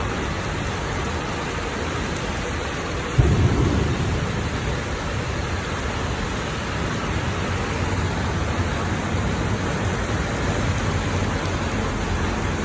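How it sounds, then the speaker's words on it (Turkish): Heavy rain pours steadily in Riga, Latvia, a dense continuous hiss with a brief louder thump early on, no voices. "Yağmur iyi yağıyor."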